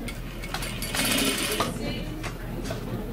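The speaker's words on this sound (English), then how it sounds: "Put the top edge of your pocket at that 3/4 inch marking on your machine and just stitch a straight stitch across your pocket" A sewing machine runs a straight stitch across a patch pocket, a close, continuous buzzing whir over a few seconds while someone talks.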